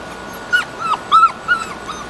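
Puppies whimper and yip in a few short, high-pitched bursts, about four cries spaced across a couple of seconds, close by and fairly loud over a quiet background.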